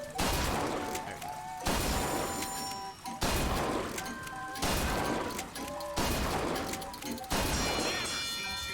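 Video game gunshots ring out as a series of about six loud, sharp blasts, each followed by a brief decaying crash, spaced at roughly even intervals.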